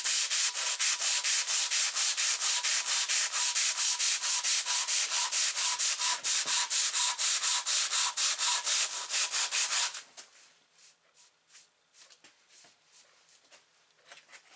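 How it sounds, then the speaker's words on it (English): Sandpaper stapled to a half-moon wooden block is rubbed back and forth on carved stone, fast rhythmic rasping strokes, loud and close, then much fainter, lighter strokes near the end. "What I've got is a piece of wood that's cut in a half moon shape, and it's got some sandpaper stapled onto it."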